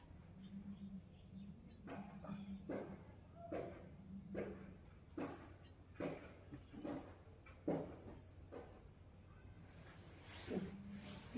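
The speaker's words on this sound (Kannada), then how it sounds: "ಅಯ್ಯೋ ನಾಯಿ." A dog nearby gives repeated short whimpers and yelps in an uneven series, fairly faint against a steady low hum, with a little talk in the background.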